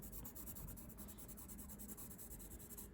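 Pencil shading on paper in an isometric drawing, a steady close scratchy rubbing with quick back-and-forth strokes, continuous and quiet with no talking.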